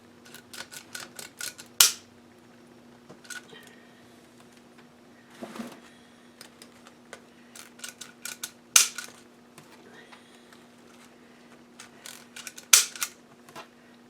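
Sharp crisp snips of cutters working through ribbon candy, a quick burst of clicks followed by scattered single cuts and a few louder snaps, close and alone over a steady low hum.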